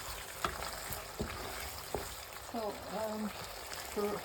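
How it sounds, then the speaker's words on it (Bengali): Spice paste and chicken sizzle steadily as they fry in a pan, with scattered stirring clicks and a voice talking over the hiss partway through. "মশলাটাকে ভালো মতো কষিয়ে নেব"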